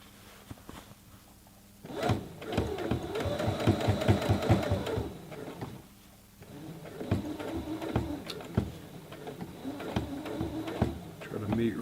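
Brother CE1100PRW sewing machine stitching a denim jeans hem: two close runs of rapid, even needle clatter separated by a brief pause, with small clicks and handling noises between.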